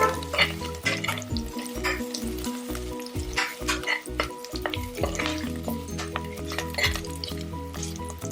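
Mutton intestine (kudal) fries in a pan with steady crackling sizzle and occasional stirring scrapes, close and continuous throughout, no speech.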